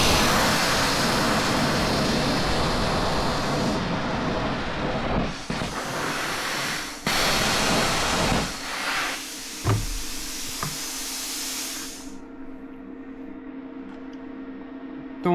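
A Bestarc BTC500DP plasma cutter at full power slicing through 3/16-inch steel gives a harsh, continuous roaring hiss for about twelve seconds, then cuts off, leaving a low hum.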